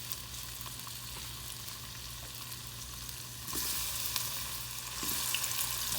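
Tomatoes and tomato paste sizzle in a hot pan for a Haitian-style baked chicken, a close, steady frying crackle that grows louder and denser partway through.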